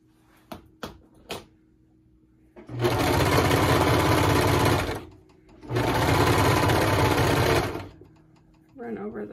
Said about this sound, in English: Run over those stitches just a little bit, about 2 inches or so.